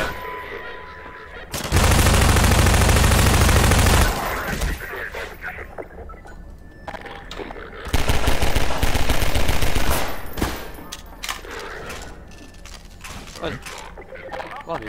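Gunfire from a gun in Garry's Mod, two loud sustained bursts of rapid automatic fire separated by quieter stretches of clicks, mechanical rattles and scattered single shots, with a voice speaking in between.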